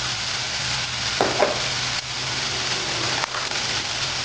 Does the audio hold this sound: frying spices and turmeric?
yes